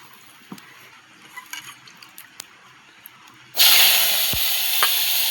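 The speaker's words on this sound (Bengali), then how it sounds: "এবার কড়াইতে তেল দিয়ে একটু ভেজে নেব" Garlic, chillies and gourd peel hit hot oil in a wok with a sudden loud hiss. The sizzle stays strong and steady after a quiet stretch of faint kitchen clicks and handling sounds.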